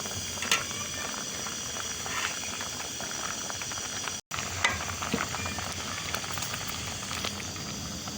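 Water boils with rice in a pot for moong dal khichdi, a steady close bubbling and gentle sizzle running continuously with a brief cut midway, no voices present.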